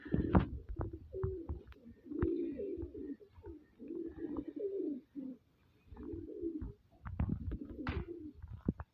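Punjabi pigeons, including a large male, coo repeatedly up close in soft, throaty bursts, with occasional clicks and rustling between the calls.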